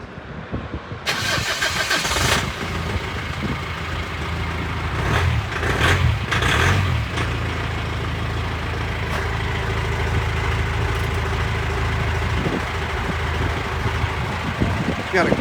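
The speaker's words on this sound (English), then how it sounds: "Got a great diesel engine in it." The diesel engine of a 1989 Land Rover Defender 110 cranks and starts, then settles into a steady, rumbling idle close by, with a few brief knocks and clatters along the way.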